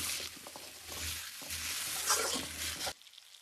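Small-onion and garlic chili powder sizzles in hot oil for a Rayalaseema-style chicken fry, a steady close frying hiss with a few stirring scrapes that cuts off abruptly near the end.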